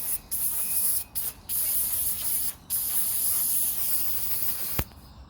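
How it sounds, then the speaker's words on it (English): Degreaser liquid sprays onto motorcycle subframes in a big tub during a ZXR Turbo rebuild, a loud close hiss in long bursts broken by brief pauses, ending with a short knock. "Back to the degreaser. I'll do the subframes first."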